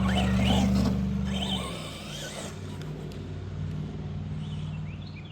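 An Arrma Fury RC truck with a Hobbywing 120A ESC and 3150KV motor on a 16-tooth pinion rips around, its loud whining motor fading after the first couple of seconds into a steadier, quieter drone.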